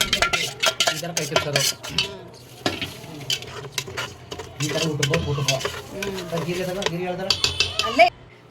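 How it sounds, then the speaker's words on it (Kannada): Masala sizzles and crackles with onion and chilli in a hot pan for a chicken dish while a utensil scrapes and stirs, with a person talking throughout. "ಒಗ್ಗರಣೆ ಮಾಡ್ತಾ ಇದ್ದಾರೆ."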